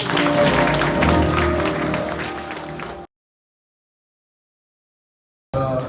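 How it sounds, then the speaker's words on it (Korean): Large indoor audience clapping at a hospital opening ceremony, a dense steady wash of applause for about three seconds before cutting to silence, then resuming briefly at the end. "특별히 우리 간호부장 큰 박수 한번"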